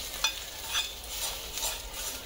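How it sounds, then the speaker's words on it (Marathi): Hot tempering poured into parwal seed chutney gives a quiet, steady sizzle with light stirring scrapes and faint clinks, close and soft. "तर ही फोडणी मी आता ह्याच्यामध्ये घालते."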